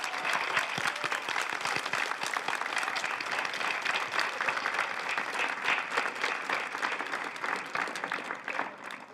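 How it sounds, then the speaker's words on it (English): A school audience applauds at an eighth-grade moving-on ceremony after staff names are read, with a sustained, even wash of many hands clapping at moderate distance. "Please, a round of applause."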